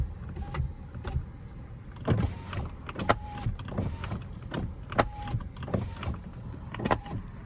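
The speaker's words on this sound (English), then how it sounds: "I'm gonna keep the windows rolled down a little bit" Power windows on a Dodge Challenger R/T whir as they roll down, a series of short motor whines repeating roughly every second over a steady background of car cabin and road noise.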